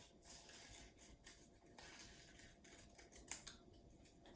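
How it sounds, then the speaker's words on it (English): Scissors cutting paper along a curve in a children's occupational therapy craft session: a run of soft, crisp snips in irregular rhythm, close and quiet, with brief pauses between cuts. "we're practicing rotating that paper when we're cutting"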